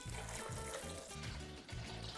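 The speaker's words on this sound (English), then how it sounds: "Also add in 4 cups of water." Four cups of water poured from a gallon jug into a blender for horchata, a continuous faint gurgling stream with rhythmic glugging pulses throughout.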